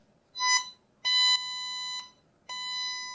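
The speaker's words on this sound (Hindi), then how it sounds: "तो हेडफोन में से काफी लाउड साउंड आने लगती है" A loud electronic alarm from boAt Rockerz 415 Prime Bluetooth headphones, repeated high-pitched tonal beeps in three bursts, the last two long and steady, with quiet gaps between.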